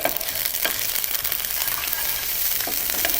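Steady, loud sizzling and crackling of ginger garlic paste frying in hot oil for chilli chicken, continuous throughout with no talking.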